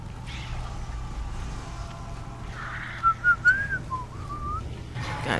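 A short, thin whistle rises and wavers for a couple of seconds over a steady low background hum, fairly quiet and alone.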